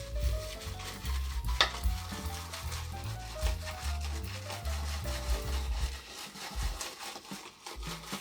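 A synthetic brush whips Muhle sandalwood shaving cream in a bowl, giving a close, wet, swishing lather sound in steady strokes with one sharp tap near the start.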